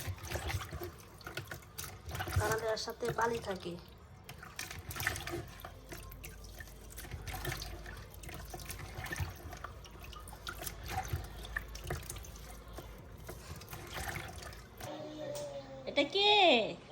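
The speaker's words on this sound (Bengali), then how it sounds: "মাছগুলো পরিষ্কার করে দিচ্ছি, একটু হালকা গরম পানিটা দিতে হইব" Warm water pours and trickles over fish being cleaned in a kitchen sink, a steady running splash with drips under ongoing talk from a nearby voice.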